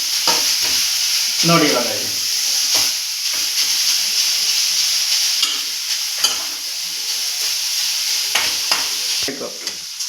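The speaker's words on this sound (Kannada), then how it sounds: "ಇವಾಗ ಫ್ರೈ ಮಾಡ್ತಾ ಇದೀನಿ ಸ್ಲೋ ಅಲ್ಲಿ ಗ್ಯಾಸ್ ಇಟ್ಕೊಂಡು ಈ ಥರ ಇದನ್ನ ಫುಲ್ ಫ್ರೈ ಮಾಡ್ಕೋಬೇಕು" Grated carrot frying in ghee over a low gas flame for carrot halwa: a continuous close sizzle with recurring scrapes and stirs, and a few brief spoken words over it.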